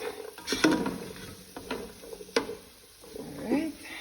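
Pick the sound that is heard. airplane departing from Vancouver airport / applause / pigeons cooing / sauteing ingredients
sauteing ingredients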